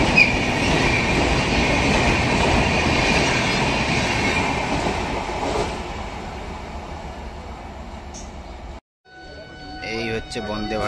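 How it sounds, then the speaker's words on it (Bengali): Vande Bharat express train pulling into a station, a loud continuous rumble of wheels and carriages with faint squeal, close by, dropping to near silence before platform noise returns; a voice speaks over it. "এই হচ্ছে বন্দে ভারত ঢুকছে,"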